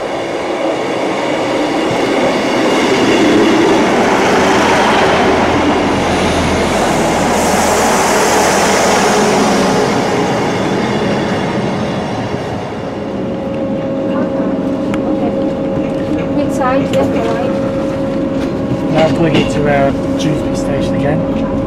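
A train at Dewsbury station, with a loud rumbling, roaring passage of rail carriages that fades into rhythmic wheel clatter and squeals, while voices talk in the background.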